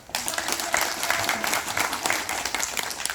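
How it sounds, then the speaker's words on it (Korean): A seminar audience on legal and tax compensation claims breaks into steady, dense applause that starts abruptly and holds loud throughout, with no one speaking over it. "멀리서 오셨다고 감사하다고 박수 한번 보냅시다"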